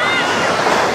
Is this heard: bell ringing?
no